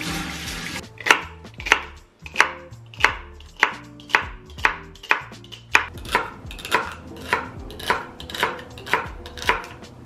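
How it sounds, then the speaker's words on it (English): A knife chops celery steadily on a cutting board, a series of crisp, evenly spaced thuds close by, with no talking. "then I'm going to chop it up and put it in my blender cup"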